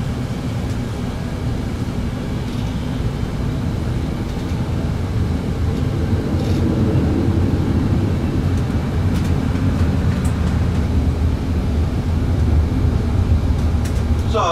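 A passenger airliner rolling and taxiing after landing at Düsseldorf Airport, heard as a loud, steady engine roar and rumble that swells slightly partway through, with faint clicks and no speech.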